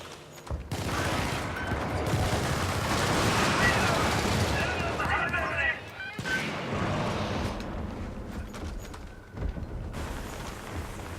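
Video game artillery barrage: a dense run of booming gunfire and explosions rolls on for several seconds, dips briefly, then resumes at a lower level, with radio-style voice chatter over the top.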